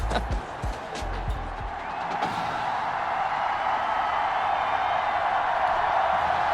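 A steady, dense roar of a large stadium crowd in the video game Madden 21 fills the space, with a few sharp thuds and knocks near the start before the noise settles into a constant wash.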